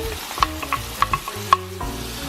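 Onion fries in oil with cumin seeds and hing, a busy, close sizzle. Rhythmic spoon scrapes and clinks against the pan come through as it is stirred, with no voice.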